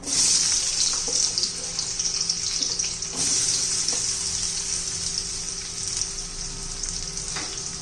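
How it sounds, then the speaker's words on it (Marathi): Potato pieces sautéing in hot oil crackle and sizzle steadily up close, with occasional scrapes of stirring and a faint background hum; no one speaks. "बटाटा चांगला तेलामध्ये खरपूस असा कलर बदलेपर्यंत, शिजेपर्यंत आपण परतून घेणार आहोत."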